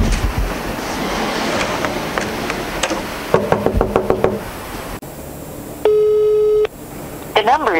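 A telephone call goes unanswered: repeated ringback tones sound under a voice, followed by a steady busy-line tone and a few more rising beeps at the end.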